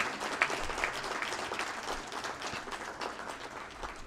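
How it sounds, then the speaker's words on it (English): A distant audience at a conclave valedictory event in India gives steady, faint applause, a continuous patter of many hands heard from afar. "Can we please have another big round of applause,"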